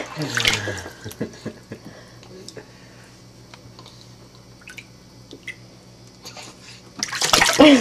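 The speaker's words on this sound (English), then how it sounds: "Oh, splashing." A baby splashes water in a bathtub, scattered small slaps and trickles, with a louder burst of splashing at the start and end.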